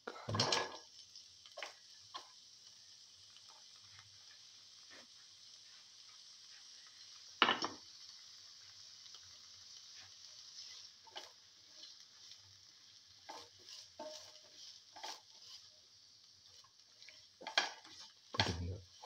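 Garlic stirred in a pan for an okra and potato rice dish: scattered scraping and clinking of a utensil against cookware over a faint frying hiss, with sharper clatters now and then.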